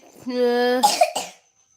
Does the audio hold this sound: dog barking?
no